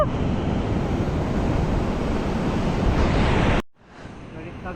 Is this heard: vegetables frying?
no